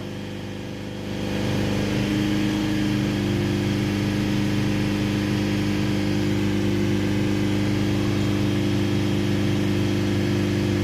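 A Mercedes Sprinter 2.1 diesel engine, with a blocked DPF, rises from a lower hum to a steady, raised rev and holds a loud, even drone with a tonal whine.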